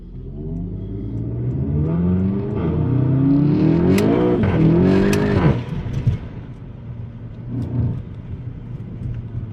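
A car driving through quiet city streets at night revs up into a swelling engine roar, holds it, then eases off to a softer rumble; close and loud with no voices.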